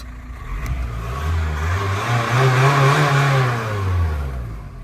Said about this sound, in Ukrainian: покажу, як автомобіль бере оберти